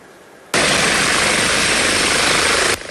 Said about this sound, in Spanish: Son 3 helicópteros Airbus H-145 y 3 aeronaves Grove G-120